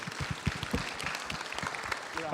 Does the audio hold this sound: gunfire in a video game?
no